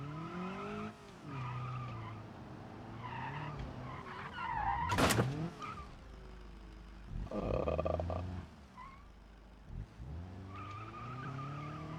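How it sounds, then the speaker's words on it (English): Car crashing into a building in BeamNG.drive, with tires skidding and squealing over a steady engine drone, one loud sharp impact near the middle, then further scraping and revving. "I totally didn't just crash my car into a building on accident because I didn't turn good enough."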